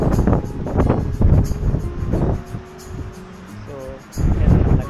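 Strong wind buffets the microphone outdoors beside a pine tree in Zambales, coming in heavy low rumbling gusts that rise and fall, with a brief faint tonal sound near the end.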